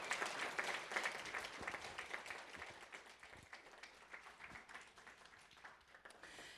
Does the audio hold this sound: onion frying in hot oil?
no